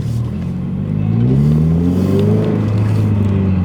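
A car engine revs up hard, its rising and falling tones climbing in steady sweeps, loud and close, with no talking over it.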